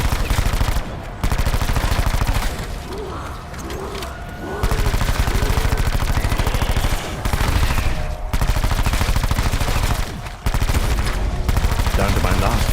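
Rapid automatic gunfire and bursts of shots from Call of Duty Black Ops 4 ring out loud and dense, broken by several short gaps across the stretch, with game sounds underneath.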